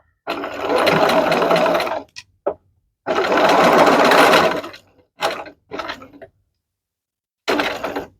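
A sewing machine stitches a 5/8-inch seam around a curve, running in two long bursts followed by several short back-and-forth spurts to secure the ends, close and alone with no talk.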